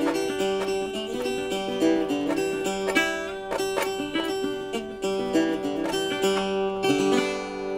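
A banjo fitted with a Gold Tone mute picks a quick rolling pattern of plucked notes, soft and damped with short, dull attacks, played alone without voices.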